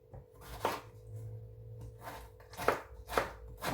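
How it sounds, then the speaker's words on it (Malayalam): Tomatoes are chopped with a knife on a board, a few distinct close knocks spaced irregularly and quickening near the end against a quiet low hum. "അപ്പം ഞാൻ ടൊമാറ്റോ എല്ലാം അരിഞ്ഞെടുക്കുക കേട്ടോ"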